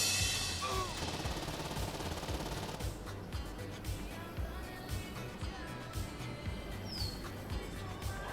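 Gunfire in Saints Row 2, a faint, steady spray of rapid automatic shots rattling in the background, with a few bird chirps above it and no talking.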